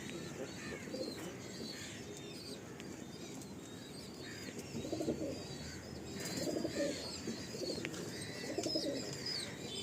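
Pigeons coo in low, repeated rounded phrases at close range, with chirps and the odd wing flap mixed into a soft room background and no clear talk.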